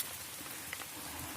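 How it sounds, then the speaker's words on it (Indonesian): Rain falling steadily in a mountain forest on the trail of Mount Kerinci, a faint, even hiss of drops pattering on leaves, with no voices. "Sekarang lagi hujan."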